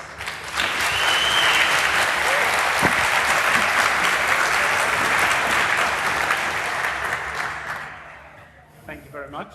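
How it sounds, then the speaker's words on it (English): A large audience claps steadily and loudly at a conference talk on telecom hacking, a dense wash of applause lasting several seconds before tapering off as a voice begins. "a big round of applause for those guys"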